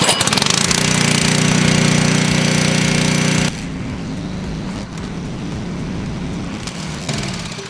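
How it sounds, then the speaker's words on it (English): The engine on a pressure washing skid runs loud and steady with a harsh buzzing drone, then drops abruptly to a lower, rougher running tone for the rest of the clip. "you're going to want to crank your pressure washer back up"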